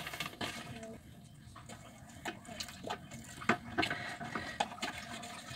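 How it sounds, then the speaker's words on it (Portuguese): Water runs and splashes into a large, nearly full bucket while homemade liquid soap is being mixed, with irregular pouring bursts and sharp splashes growing louder toward the end. "Acrescentei água."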